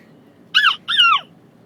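A person imitates a harpy eagle call with two loud, harsh, descending screeching cries, the second one longer, clear and close against a quiet background.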